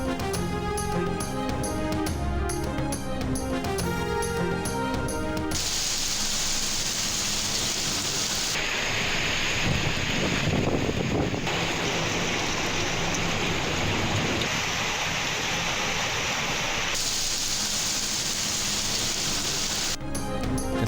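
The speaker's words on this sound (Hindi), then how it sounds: "इस्लामाबाद और पंजाब के मुख्तलिफ शहरों में मूसलाधार बारिश।" A heavy downpour over cities in Islamabad and Punjab makes a steady dense hiss for several seconds, with traffic noise mixed in, framed by loud music before and after.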